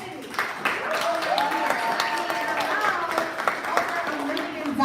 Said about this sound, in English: Let's just give one more round of applause for Serenity